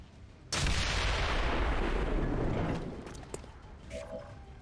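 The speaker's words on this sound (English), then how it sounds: "And then shoot the claymore." A claymore mine detonates in a sci-fi video game, a sudden loud blast with a broad roaring burst that decays over about two seconds, followed by faint scattered cracks and debris.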